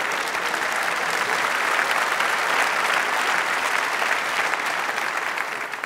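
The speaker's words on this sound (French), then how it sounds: "On rigole, on applaudit" A comedy show audience claps steadily and densely, a loud, even wash of applause that runs without a break.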